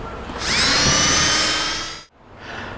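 A power drill bores into a vintage Chevy/GMC truck vent window part. It whines loudly for about a second and a half, tapering as the bit slows, then cuts off briefly before a softer motor hum resumes.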